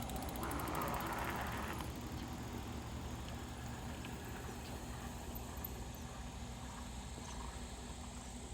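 A Mokwheel Obsidian e-bike runs on throttle alone, its motor giving a steady, even hum with road and wind noise that holds constant throughout, no pedaling and no voices.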